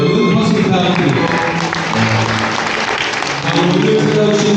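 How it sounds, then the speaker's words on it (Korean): Wedding guests in a hall applaud during the ceremony, a dense, loud and continuous round of clapping with crowd murmur and voices mixed in throughout. "여러분 박수 부탁드립니다."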